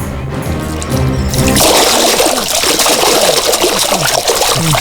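Water is poured over sleeping people in a crime thriller scene. A short musical stretch gives way to a loud, sustained splashing gush that continues to the end.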